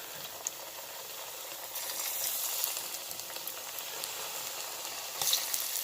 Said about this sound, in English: we're going to put it back into the pot to fry